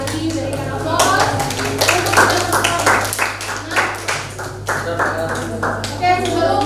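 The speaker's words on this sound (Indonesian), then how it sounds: "Sekali lagi berikan aplaus." A classroom of students claps in applause after group presentations, a dense, steady patter of many hands lasting several seconds with some children's voices mixed in.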